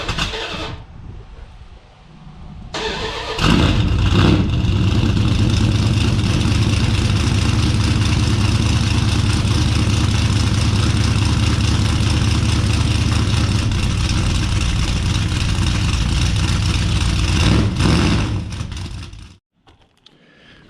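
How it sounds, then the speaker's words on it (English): A Dodge Ramcharger truck with a Dynomax exhaust cranks and fires, then settles into a deep, steady, loud idle lasting about fifteen seconds before shutting off abruptly. "let's start the truck up already"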